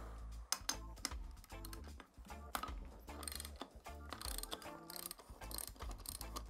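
A 3/4 ratchet loosens a large nut on a Harley-Davidson Sportster motorcycle front end, giving rapid close clicking in short bursts with some clanks, and no talk.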